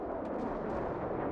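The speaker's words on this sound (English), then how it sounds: "roar of the Soviet guns" Soviet cannon fire in the World War Armies video game, a dense, continuous low rumble of guns roaring without a break, loud and close, with no talk over it.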